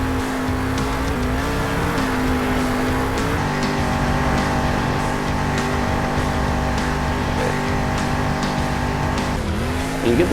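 Monster truck engine drones steadily while tires squeal through a long drift in the video game Monster Jam Steel Titans 2, loud and continuous with pitch shifts as the truck slides and recovers.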